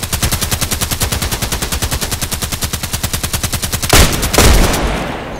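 Rapid, evenly spaced gunfire from an IZH-43 shotgun in the Contract Wars game, a fast loud rhythmic burst of shots that breaks into a couple of heavier blasts near the end.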